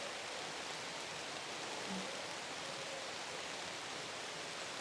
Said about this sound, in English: just listening to the sound of that rain